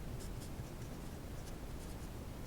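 Marker or pen writing out a constant by hand on a board, soft scratchy strokes in short bursts over steady room hiss, with no talking.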